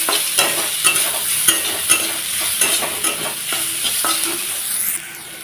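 Chopped ginger and cucumber frying in a pan, a loud close sizzle with rhythmic stirring scrapes of a spatula, the hiss dropping off near the end.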